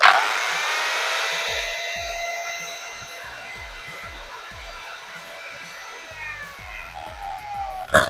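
A hair dryer runs off a Bluetti AC200 power station, a steady close airy whoosh with a high whine that holds for several seconds, dipping slightly midway, with intermittent low thumps underneath.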